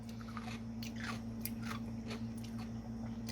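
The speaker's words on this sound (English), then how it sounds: "They have a really good crunch. Like insane crunch." Crunchy biting and chewing of a Steinfelds petite dill pickle, a close run of sharp crisp crunches over a steady low hum, with no talk.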